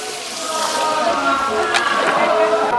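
Hot water poured into a cooking pan of fried potatoes with cumin, turmeric and dried chilli in a village kitchen, a steady close sloshing pour with sizzling and bubbling throughout.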